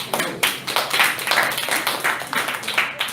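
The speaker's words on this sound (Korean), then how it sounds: "박수." A small group applauds a student team's research presentation at a university youth studies academic event, with dense, steady clapping running through the whole stretch at moderate loudness.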